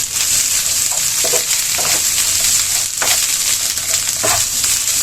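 Ginger garlic paste frying in hot oil for a prawn dish, a loud, steady sizzle with a few scraping stirs of a spatula, close and without voices.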